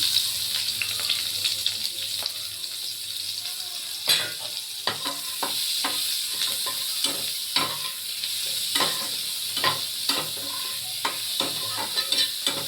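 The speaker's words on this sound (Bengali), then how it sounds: "এখানে আমি পেঁয়াজ কুচিয়ে রেখেছি, এটা আমি দিয়ে দিচ্ছি।" Chopped onion frying in a pan makes a loud, constant sizzle, broken by repeated scraping and clicking strokes as it is stirred.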